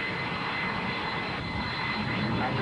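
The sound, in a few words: Mirage jet fighter aircraft in flight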